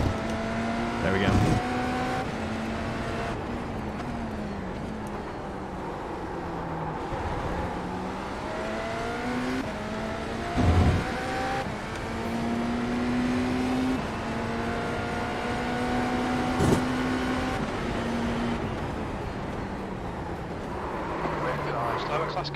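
BMW LMDh prototype race car at Daytona, its engine droning steadily with rising and falling pitch through gear changes as other cars whoosh past, under radio chatter.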